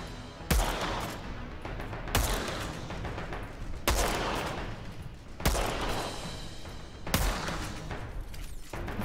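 Loud gunfire from the shooter game Outriders: bursts of rapid shots and heavy booms repeat roughly every two seconds, dense and continuous without a break.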